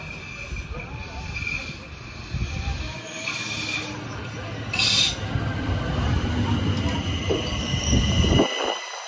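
An Uetliberg Railway train running through the Zürich suburbs in Switzerland, a steady rolling rumble with hiss and rising wheel noise that swells toward the end, heard up close.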